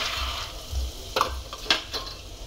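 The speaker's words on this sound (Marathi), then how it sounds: "दाणे सुद्धा आपल्याला असेच तळून घ्यायचे व्यवस्थित" Peanuts frying in oil in a pan for poha chivda, a steady low sizzle with a few sharp clicks and scrapes from stirring, close and fairly quiet, with no voices.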